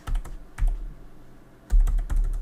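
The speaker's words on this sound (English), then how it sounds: "So I'm going to type" Typing on a computer keyboard, a few short bursts of close, clicking keystrokes separated by brief quiet gaps, with no talk.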